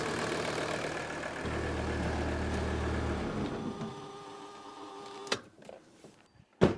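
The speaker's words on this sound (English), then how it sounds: "Watch how the engine reacts when it stops." Mercedes 300D diesel engine running steadily with a low throbbing idle, then abruptly shut off partway through, leaving near silence broken by a couple of sharp clunks.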